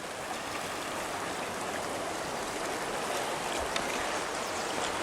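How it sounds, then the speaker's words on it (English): High spring river at Como, Montana, a steady broadband rush of water running continuously and fairly loud near the bank, with no voices over it. "River is really high right now"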